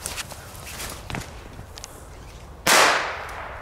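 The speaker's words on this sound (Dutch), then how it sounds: "Je hebt best wel lang de tijd voordat ze knallen." A single sharp firecracker bang goes off outdoors after a few quiet seconds of faint steps and shuffling, its loud crack trailing off into a fading rumble.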